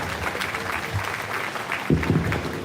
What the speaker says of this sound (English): let's go ahead and give that first class a big round of applause